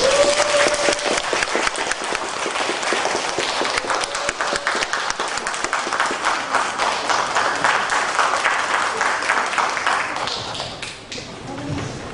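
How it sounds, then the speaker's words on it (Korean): Audience applause welcoming a lecturer at a Daejeon humanities forum, dense sustained clapping from a seated crowd that holds steady for about ten seconds, then thins and tapers off. "박수로 맞이해 주시기 바랍니다."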